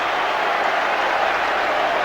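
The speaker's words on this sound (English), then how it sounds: "Bob McNabb, John Richards, all applauding" Football crowd at a 1975–76 English league match applauding and roaring after a goal, a dense, steady wall of clapping and crowd noise filling the whole moment.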